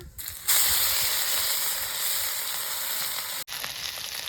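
Chilli paste hits a hot pan and the sizzle surges loudly after a brief quieter start, then holds as a dense hiss, cut by a momentary drop near the end before resuming.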